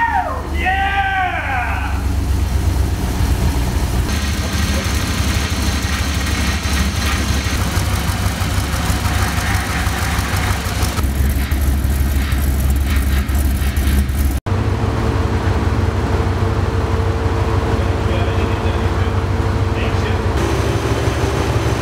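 A Desert Turtle Racing DTR desert racing truck engine firing up for the first time and settling into a loud, rough idle with steady low rumble throughout, while people talk nearby.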